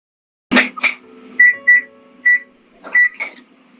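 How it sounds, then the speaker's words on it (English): Electronic beeps at the start of a horror video game, short tonal bleeps in an irregular sequence mixed with brief bursts of noise, clear and close against a quiet background. "As soon as I started, they're beeping."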